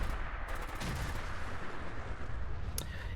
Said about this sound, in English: I love the green Gatling laser.